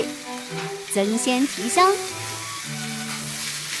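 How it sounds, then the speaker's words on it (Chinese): Black and white glutinous rice with shiitake mushroom, squid and shrimp sizzles while being stir-fried in a pan, a steady frying hiss running beneath a person talking. "再加香菇、鱿鱼、虾仁，下锅炒制"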